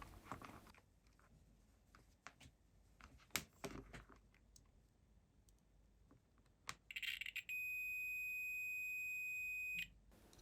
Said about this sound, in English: Continuity mode, should hear a beep if it's good.